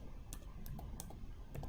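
A computer keyboard tapped a few times as coordinates are entered for a line in AutoCAD, faint separate clicks over a steady low background hum.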